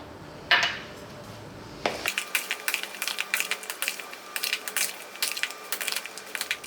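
A spoon stirs potato salad dressed with garlic, lemon juice and olive oil in a bowl, a rapid run of close, crisp clicks and squelchy knocks after a single earlier clink.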